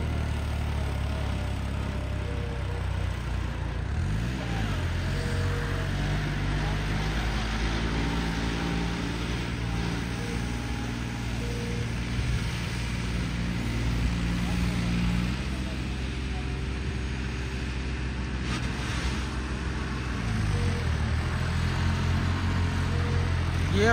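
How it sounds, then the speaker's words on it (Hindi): A New Holland 5620 turbo tractor engine drones with a steady low rumble, its pitch rising and falling as gears are shifted while moving; someone talks over it. "लेकिन को चलते गियर में भी चलते ट्रैक्टर में गियर लाते हैं"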